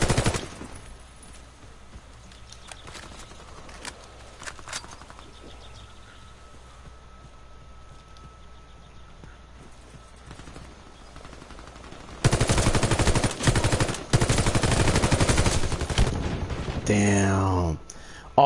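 Gunfire in the first-person shooter Warface starts with scattered shots, then turns into loud, sustained automatic bursts lasting several seconds, close and harsh, with a player's voice talking over parts of it.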